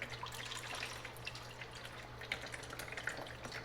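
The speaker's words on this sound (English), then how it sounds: "I'm gonna strain all those seeds out of so you can see there's a bunch of seeds down in there" Tomato pulp and seeds draining through a small kitchen strainer, a soft continuous trickle with faint scattered drips over a low steady hum.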